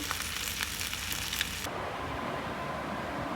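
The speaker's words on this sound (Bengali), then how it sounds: "এখন শুধু ইলিশ মাছগুলো ভাজা করে নিচ্ছি।" Hilsa fish pieces frying in mustard oil, a close, bright crackling sizzle that drops abruptly halfway to a softer, duller frying hiss.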